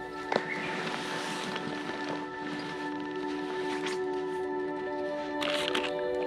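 Steady wind moving through forest trees on the Hallasan Dulle trail on Jeju Island, a soft continuous rustle with a few brief crackles, no voices.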